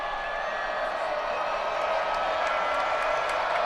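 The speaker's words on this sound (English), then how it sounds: "And we are hearing it from the crowd on this free throw." A women's college basketball crowd, Michigan against Michigan State, during a free throw: a dense, continuous roar of many voices filling an arena, steady and loud throughout, with no single cheer standing out.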